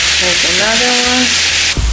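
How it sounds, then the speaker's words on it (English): Beans boiling in a pot make a loud, steady bubbling hiss close by, with a voice talking briefly over it before a short knock at the end. "The beans are starting to boil."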